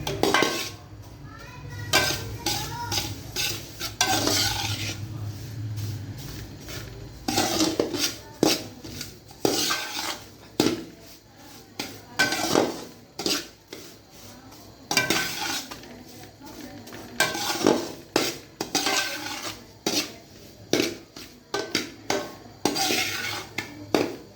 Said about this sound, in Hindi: बिल्कुल हल्की आंच पे हमने इसको भूनते जाना है।